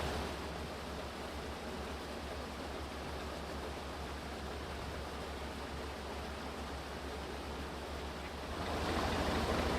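Water gushing through a lock on the Oxford Canal, a steady rushing hiss of pouring water, fairly faint and continuous, swelling slightly louder at the end.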